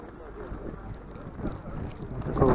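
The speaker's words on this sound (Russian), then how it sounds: "Вот такой вот снег летит с ветром." Wind-driven snow gusting across a foggy Elbrus ski slope near Mir station, a steady low roar of wind buffeting the microphone that swells louder toward the end.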